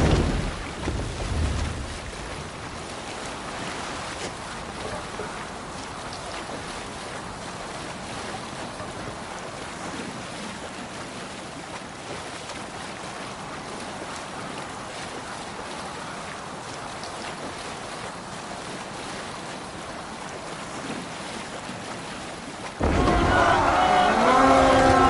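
Viking longship under sail on ocean waves in Assassin's Creed Valhalla, with a steady wash of water and wind that grows louder and more turbulent near the end.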